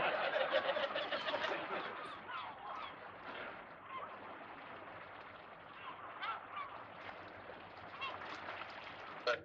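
A flock of ducks honks and quacks continuously, a busy chorus of calls at moderate distance with no talking.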